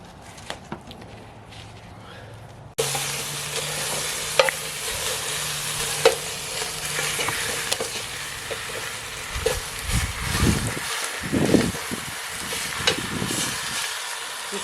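Onions, garlic and chilli sizzle and crackle in a pan over a camp cooker while being stirred, a steady frying hiss with scraping stir strokes growing busier partway through.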